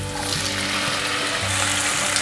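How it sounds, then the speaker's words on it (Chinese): Tomatoes hitting hot oil with celery in a wok, a steady close sizzle and fry hiss running throughout with faint stirring scrapes, no voices. "现在放入番茄"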